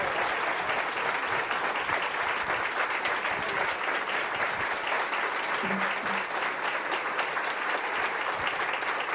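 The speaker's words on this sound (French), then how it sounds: "recevons-la avec tonnerre d'applaudissements" A church congregation bursts into sustained applause, a dense even wash of many hands clapping throughout, with no speech over it.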